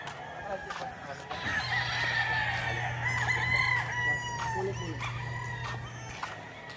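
Kelso gamefowl roosters crow in a tethered resting area, one long crow rising clearly across the middle with others fainter behind, over steady outdoor background noise and a low hum.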